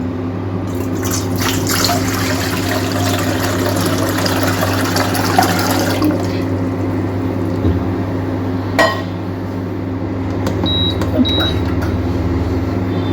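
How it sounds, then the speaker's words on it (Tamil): Steady stream of water pouring into a metal pot on a lit stove, the stove humming, with a faint clink near the middle and soft bright tones toward the end. "பாத்திரம் வச்சாச்சு அடுப்பு ஸ்டார்ட் பண்ணியாச்சு தண்ணி ஊற்றுவோம்"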